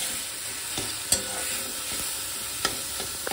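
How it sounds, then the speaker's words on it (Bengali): Chicken frying in a pan is stirred, with a steady sizzle throughout and occasional sharp scrapes and clicks of the utensil against the pan. "তো চিকেনটা একটু নাড়াচাড়া করে নিলে চিকেনের যে কাঁচা গন্ধটা সেটা চলে যাবে।"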